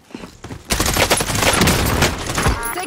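Gunfire from a Call of Duty Rebirth match with an XM4 rifle, a few scattered shots and then a loud, sustained burst of rapid automatic fire at close range.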